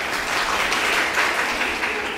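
Attendees at a sisters' retreat in Kollam clap together in steady, dense applause at the close of the prayer session, a continuous wash of hands without voices.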